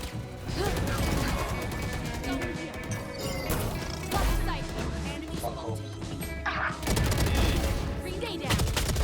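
Dense automatic gunfire from a Spectre submachine gun in a Valorant round, with rapid bursts and clanking mechanical game effects running through the whole stretch.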